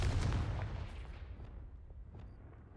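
In the video game Hogwarts Legacy, a Confringo spell bursts as a single deep, booming blast that rumbles and fades away over a couple of seconds.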